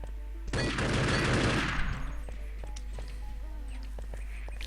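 Gunfire in a multiplayer shooter match between Hungary and Australia at a Clanbase NationsCup group stage. A loud, dense burst of rapid shots lasts about a second and a half and then fades into scattered lighter clicks and footsteps.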